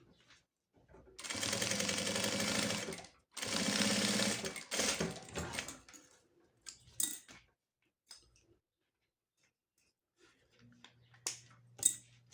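A sewing machine stitches a clear plastic necessaire in two loud bursts of about two seconds each, followed by softer clicks, handling noises and a low hum.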